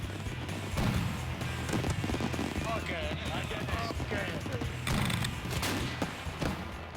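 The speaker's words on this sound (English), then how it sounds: "The explosions are so loud, you just have all your chests compressed." Booming fireworks blasts and crackling bursts fill the air, with whistling rockets rising, while a crowd talks and cheers throughout.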